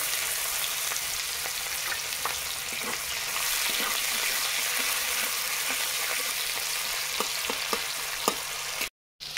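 Chopped onion fries in oil with dried red chillies, bay leaf, cloves, cinnamon, cardamom and nigella seeds, giving a continuous close sizzle with scattered spoon clicks. A short silent gap comes just before the end.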